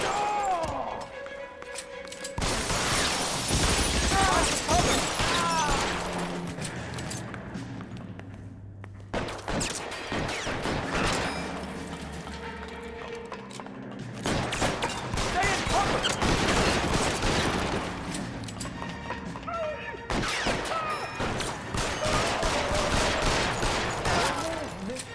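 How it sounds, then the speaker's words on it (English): Bursts of .45 pistol gunfire in L.A. Noire come in loud clusters separated by brief lulls, with a voice talking among the shots. "I should be able to shoot through wood. I've got a 45. That is a big, big bullet."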